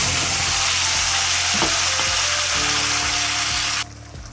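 Loud, continuous sizzling as a spice paste is added to hot oil with browned tempering spices, with occasional soft clicks, cutting off abruptly near the end.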